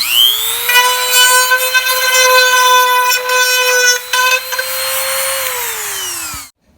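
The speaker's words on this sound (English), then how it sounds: "all this is gonna be knocked out with this Dremel here" A Dremel rotary tool cuts into a Hummer H2 door panel for a speaker install, a loud steady high-pitched whine that holds for about six seconds with slight pitch wavering, then winds down and stops abruptly.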